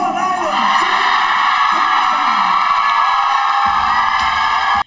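A pageant audience at the crowning of Miss World Bahamas cheers loudly and continuously, with screams and whoops over a dense roar that holds steady, then cuts off abruptly at the end.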